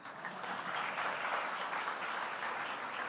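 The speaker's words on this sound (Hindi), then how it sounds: "एक ताली बजे तो सब बजा दे रहे हैं" Dense, sustained applause from an audience at a live poetry recital on stage, many hands clapping together evenly and loudly for about three seconds with no voices on top.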